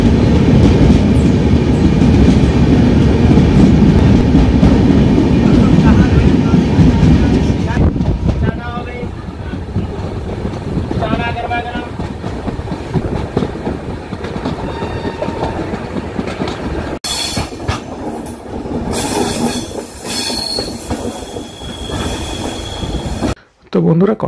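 The Sikkim Mahananda Express runs through a tunnel in the Dooars, a loud enclosed roar of wheels and carriages that gives way to lighter clattering and screeching as it emerges, with brief voices in the background.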